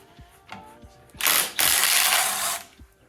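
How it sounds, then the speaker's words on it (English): Cordless impact wrench removing oil pan bolts on a Subaru EJ2.5 engine: a loud, rattling burst of about a second and a half with a brief hitch in the middle, framed by quieter clicks and handling noise. "I'm using my Impact cordless"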